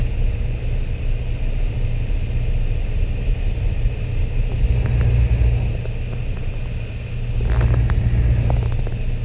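Light aircraft engine droning steadily at reduced power during an emergency engine-out practice flight near KSYR, a continuous close cabin rumble with slight swells, no talk.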